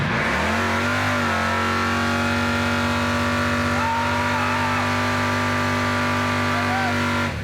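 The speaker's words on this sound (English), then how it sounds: "Talk about burnouts for distance, dude." The crop duster car doing a long burnout for distance, its engine held at a sustained high roar that drones on loud and steady for several seconds.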